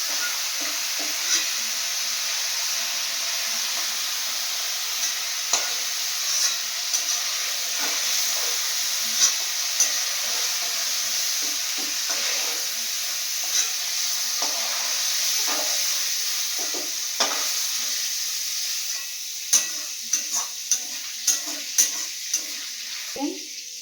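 Potatoes fry in oil in a pan, sizzling and hissing steadily while a utensil scrapes and taps against the pan in irregular strokes, growing busier toward the end.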